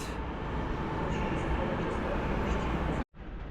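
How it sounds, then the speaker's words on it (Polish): The Fałat train pulls in at platform one of Wrocław Główny station, a steady rumbling roar of rolling wheels and motors, fairly close, cut off abruptly near the end before resuming. "Wjechał nieco dalej przy peronie pierwszym pociąg Fałat."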